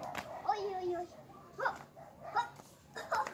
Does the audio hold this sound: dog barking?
yes